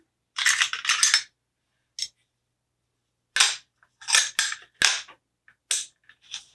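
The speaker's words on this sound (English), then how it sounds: "We're going to break the rifle down, popping out our pin and removing the bolt carrier group." An AR15 rifle being broken down: a string of sharp metallic clicks and snaps as the takedown pin pops out and the bolt carrier group slides free, close and crisp with silent gaps between.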